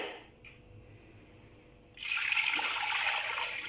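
Water poured into a cooking pot of beef and meat for yakhni: quiet at first, then a sudden steady gushing splash that continues to the end.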